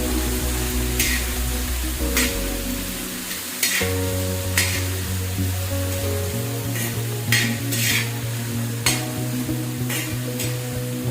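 Bitter gourd stir-frying on an iron tawa, a steady close sizzle with a low rumbling hum beneath and repeated sharp scraping strokes of a spatula against the metal, with no voices.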